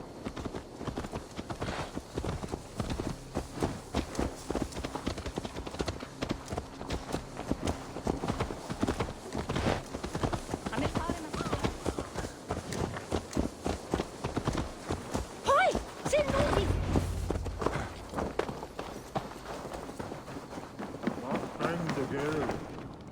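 A horse gallops in Assassin's Creed Valhalla, its quick, rhythmic hoofbeats running steadily through most of the stretch, loud and close, while voices and other game sounds play alongside.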